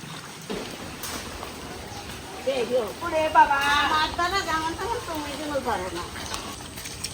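Rain falls steadily at an angle outdoors, with a constant pattering hiss under a voice that talks throughout most of the clip.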